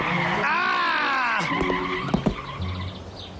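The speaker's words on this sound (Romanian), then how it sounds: "E ulei pe șosea, nu pot frâna." A cartoon car skids on oil on the road and cannot brake: a long squealing tire skid with a falling pitch, followed by a few clattering impact thuds.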